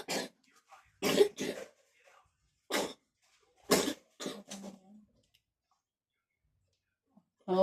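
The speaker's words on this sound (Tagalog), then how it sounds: "Tigilan mo na yung ubo mo." A child coughing indoors during a math homework session: several short, sharp coughs in separate bursts with silent gaps between, plus a brief throat-clearing toward the end.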